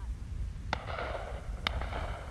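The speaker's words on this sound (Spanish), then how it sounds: "siempre pues que hacen disparos de otros combos, otros barrios" Two sharp, distant cracks about a second apart ring out over low background rumble in a Medellín neighbourhood, fitting gunshots fired between rival gangs, faint and echoing.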